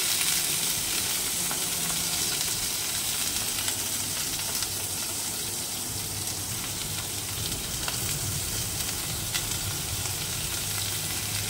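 Tomatoes and onions fry in hot oil for butter chicken, a dense, unbroken sizzle that stays loud and close throughout, with faint stirring underneath.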